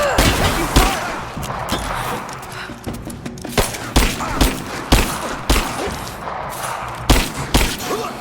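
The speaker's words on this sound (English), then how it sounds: "Taking fire!" Gunfire in the video game Rise of the Tomb Raider rings out as a firefight with soldiers, with repeated sharp shots in an irregular rhythm over a steady background rumble and occasional shouted voices.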